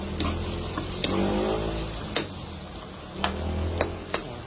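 A Filipino egg omelette (torta) fries in a pan, a steady soft sizzling hiss over a low hum, with a few sharp clicks of a utensil against the pan.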